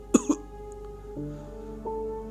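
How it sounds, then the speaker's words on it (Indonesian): Two short light coughs from a person in a car's back seat, close and clear, followed by quiet cabin hum with faint tonal sounds. "tiba-tiba terdengar suara batuk ringan dari kursi belakangku."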